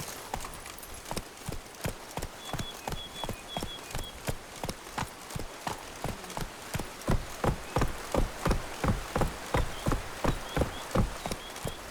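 Roach, a horse in The Witcher 3, gallops with crisp, evenly spaced hoofbeats that start moderate and grow louder and quicker toward the end, with no other sound competing.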